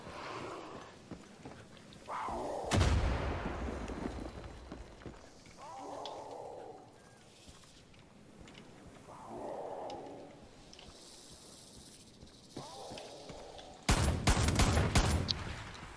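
Two loud bursts of rapid gunfire from Far Cry 5 multiplayer, one early and one near the end, separated by quieter stretches of muffled sound.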